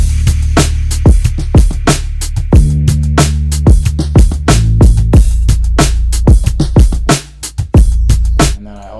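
A mixed drum pattern in Logic Pro X thumps along without the sample, with punchy kicks and snappy hits in a busy, driving rhythm, loud and upfront, with a brief dropout near the end and no speech.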